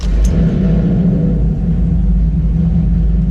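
A 2SS Camaro SS with a cammed engine rumbles loudly and steadily from inside the cabin with the back seat folded down, a deep continuous exhaust drone with no talking.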